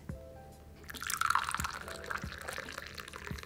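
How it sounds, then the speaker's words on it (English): Rinse water pours out of a teapot after Moroccan mint tea leaves are washed, starting with a few drips and then a splashing stream that swells and tapers, close and moderately loud. "Now we're going to pour out the water that we just used to clean our tea leaves."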